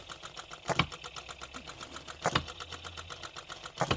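An OKMO B02 hit and miss engine runs steadily with rapid, even chuffing beats and three heavier thumps spaced through the run, heard fairly quietly.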